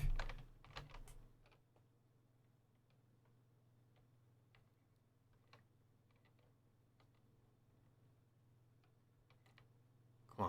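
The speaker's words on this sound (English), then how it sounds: "what am I typing?" Keystrokes on a computer keyboard come as sparse, faint clicks over a steady low electrical hum, after a brief louder burst of noise at the start.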